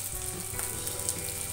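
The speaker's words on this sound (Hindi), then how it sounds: "तेल डाल दिया पैन में। उसी पैन में अब हम डाल देंगे एक बड़े साइज का प्याज और उसको रोस्ट कर लेंगे।" A large onion sizzles as it roasts in oil in a pan, a steady close crackling hiss with small pops throughout and no talking.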